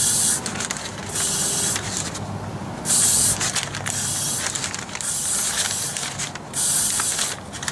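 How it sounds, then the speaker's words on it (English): Clear coat sprayed onto a rusty part of a Frogger arcade cabinet, heard as repeated close hissing bursts of an aerosol can, several seconds long with short pauses between them, alone without talk. "Just a light coat of the clear coat on there to keep that rust from coming through"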